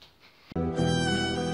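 A voice imitates a cat meowing, a short nasal meow after a brief quieter lead-in, close and loud with no other talk.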